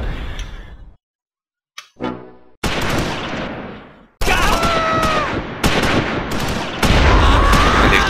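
Gunfire rattles through a Close Combat 5 Battle of the Bulge mod skirmish, with bursts and single cracks separated by short gaps, loud and near, at times layered over a busy battlefield din.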